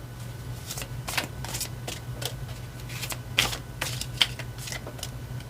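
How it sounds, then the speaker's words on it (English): Tarot cards are shuffled and handled close by, giving soft repeated riffling and flicking sounds in short bursts over a low steady hum, with no talking. "So let's pull some more cards."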